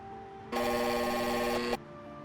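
An entry phone rings at a locked door in the adventure game Chronicles of Mystery: The Scorpio Ritual: a single steady electronic ring lasting just over a second, loud and clear with no voices.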